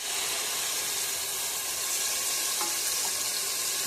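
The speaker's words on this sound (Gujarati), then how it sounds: "આપણે વઘાર કરવા માટે મસાલો તેલમાં નાખી દીધો છે." A soaked spice mix for Kutchi dabeli sizzles in hot oil during tempering, giving a dense, steady frying hiss with no pauses and only faint clinks.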